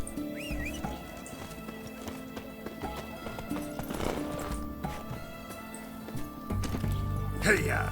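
Rhythmic clip-clop of a horse's hooves while riding in The Witcher 3, steady under game music and ambience, with a brief whinny; someone talks over it.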